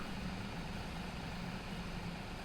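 A looping mechanical hum from a grain elevator machine in Farming Simulator 17, a steady droning whine that runs evenly and alone throughout at moderate level.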